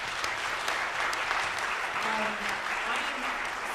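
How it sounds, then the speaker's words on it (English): An audience in a concert hall claps steadily for a community music performance, a dense, even wash of applause throughout. "so please give them a round of applause."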